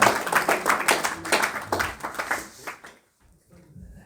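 Audience clapping for a presenter at a camp gathering, a burst of applause from a group that fades out after about three seconds, leaving near silence.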